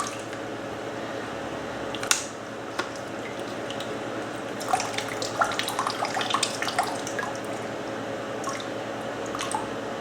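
Water drips and trickles from a Bell + Howell Taclight LED lantern as it is drained after a water test, producing soft, scattered splashes and squishy drips close by, busier in the middle stretch, with no talking.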